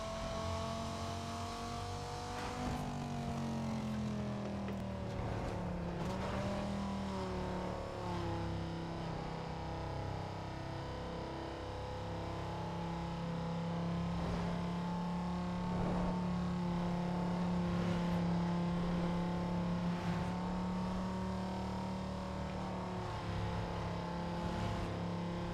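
A car engine in Need For Speed Most Wanted (2005) drones steadily through a long cruise, its pitch sliding up and down with gear changes, sounding smooth and fairly quiet under game ambience.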